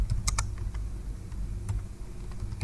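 Quick bursts of keystrokes on a computer keyboard, closely miked and fairly quiet, in short irregular clusters of clicks with brief pauses between them.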